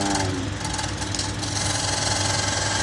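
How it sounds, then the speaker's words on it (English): A 1-inch scraper cuts white ash on a wood lathe while shaping a pepper grinder, producing a loud, continuous droning hum with a gritty scraping texture and no talking. "So I used a 1-inch scraper just to give 2 big concaves."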